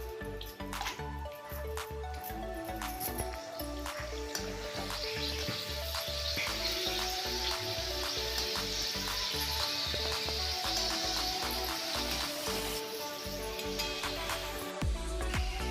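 Raisins fry in hot oil in a kadhai (wok) with a steady, bright sizzle throughout, mixed with background music that has a regular beat.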